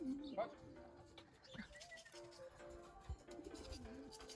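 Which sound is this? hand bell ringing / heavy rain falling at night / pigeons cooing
pigeons cooing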